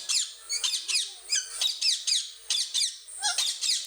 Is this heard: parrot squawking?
yes